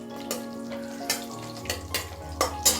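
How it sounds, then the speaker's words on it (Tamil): Onions frying in oil in a pan with fennel seeds, a steady close sizzle broken by several sharp scraping stir strokes at irregular intervals. "அப்புறம் நம்ம வெங்காயம் போட்டுக்கலாம். கொஞ்சம் பொரியட்டும்."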